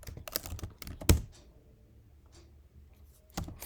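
A prompt is typed on a computer keyboard into ChatGPT: a close burst of quick keystrokes, a sharp louder key press, a quiet pause, then a few more taps at the end.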